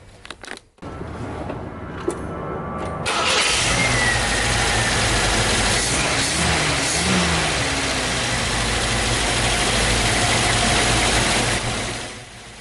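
A car engine fitted with a rebuilt Zenith Stromberg 175CD 2SE carburettor clicks and cranks briefly, then catches and runs at a steady, close idle for about nine seconds before dying away.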